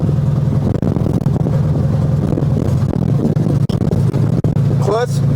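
A 1973 Volkswagen Beetle engine drones steadily while driving, loud and close, with a brief rising rev near the end.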